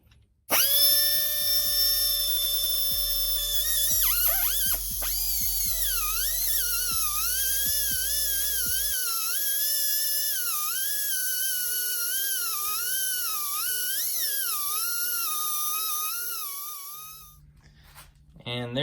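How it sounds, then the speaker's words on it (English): A small die grinder cuts metal on a Japanese mini truck, a loud, steady high-pitched whine that dips and wavers in pitch as it bites and eases, running continuously for most of the stretch before winding down. "Took a little bit of time with that small little die grinder."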